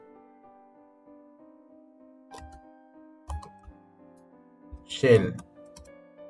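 A few sparse keystrokes on a computer keyboard as a Linux command is typed into a shell, quiet and close, followed by a man's brief speech.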